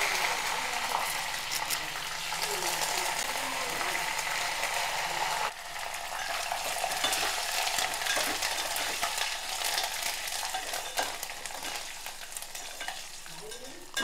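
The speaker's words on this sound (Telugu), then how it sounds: "కరివేపాకు బాగా వేగిపోవాలన్నమాట నూనెలోని" Curry leaves frying in hot oil for a fenugreek mango pickle, a steady close sizzle and crackle with occasional scraping and stirring clatter throughout, no voices.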